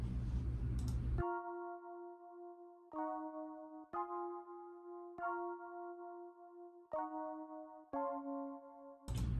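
Rhodes keys and piano play a soul sample melody of sustained chords and held notes, each struck cleanly and left ringing before the next, soft and unaccompanied.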